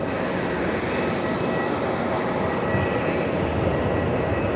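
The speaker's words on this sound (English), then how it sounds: "next arrival is going to be Velocity 734 there, Matt, coming in from the Gold Coast" A Velocity Boeing 737-800 arrives at Melbourne Airport, heard as a steady, loud broadband roar that holds evenly the whole time without letting up.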